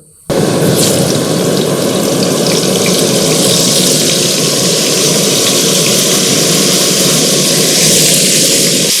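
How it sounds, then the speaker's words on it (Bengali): Cauliflower pieces frying lightly in a little oil in a pan, a loud, dense, steady sizzle that starts abruptly and holds without letting up, close by and with no talking. "এগুলো একটু জাস্ট কাঁচা গন্ধটা মেরে নেওয়ার জন্য হালকা একটু ভেজে নিলাম"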